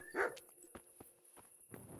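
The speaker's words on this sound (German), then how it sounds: "Was brüllst du mir so blöd an, du Hund?" A dog in the medieval game Kingdom Come: Deliverance gives one loud bark near the start, followed by several faint, sharp thuds spaced through the rest of the moment over a quiet background hum.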